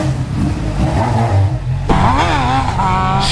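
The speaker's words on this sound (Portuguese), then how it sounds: "Queria a moto depois desse corte de giro?" A motorcycle engine in a dealership revs hard and loud, climbing to the rev limiter and bouncing off the cutoff in a stuttering, wavering pattern close by.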